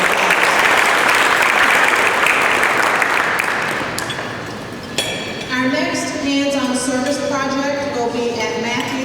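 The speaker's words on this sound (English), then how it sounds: "So let's give all of our birthday Rotarians a round of applause." Audience at a Rotary club meeting applauds, a dense burst of clapping that is loud at first, tapers slightly midway, then continues steadily with some voices and chatter mixed in.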